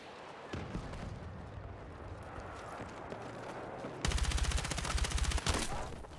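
Gunfire crackles in a Battlefield 6 firefight, with scattered distant shots at first, then a rapid burst of close automatic fire for about a second and a half.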